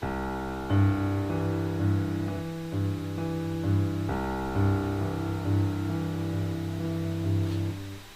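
Piano playing a flowing left-hand broken-chord accompaniment in the low register, the thumb taking the chord's third an octave higher, notes rolling steadily upward and repeating, with a chord change midway.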